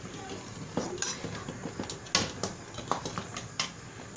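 Steel utensils and a steel tea strainer clink and rattle in a pot of boiling cleaning water, with scattered close metallic chinks and scrapes at an irregular pace.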